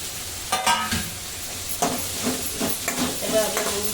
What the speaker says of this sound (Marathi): आता हे फ्राय केल्यानंतर आपल्याला हा कांदा टाकायचा आहे त्या कांद्याच्या बरोबर ती शिमला मिरची पण टाकायची आहे